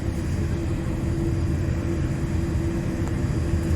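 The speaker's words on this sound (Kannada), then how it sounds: "ಟರ್ನ್ ಆಗೋದು ಫ್ಲೈಟ್" A steady, low airplane engine drone roars continuously at an even level as the aircraft turns, with no voices.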